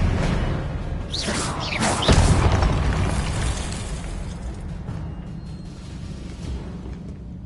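Spell effects burst in Hogwarts Legacy: a swooshing blast and fiery explosion peak early, then a rumbling crackle lingers and fades, loud and without talk.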